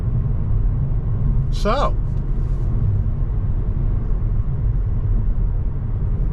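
Steady low road rumble and engine hum fill the cabin of a 2023 Kia Forte GT Line cruising along a straightaway, with a brief spoken word over the constant drone.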